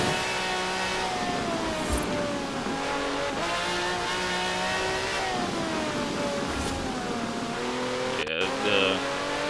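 A V12 car of over 750 horsepower in Forza Horizon 4 revs and climbs through the gears with a steady, close engine roar and occasional tire squeal. A voice talks over it.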